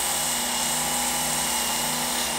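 A knife sharpener runs a belt against a steel blade with a steady high whine and a grinding hiss that holds at constant loud level for the whole stretch, with no voices.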